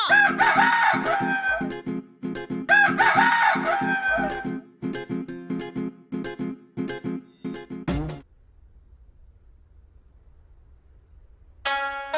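A rooster crows loudly and repeatedly in close, harmonic bursts among rhythmic clucking, then falls to a quiet low hum before a short, bright crow returns at the end.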